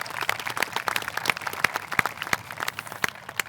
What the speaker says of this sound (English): For the graduates gathered here this morning, you all deserve an extra round of applause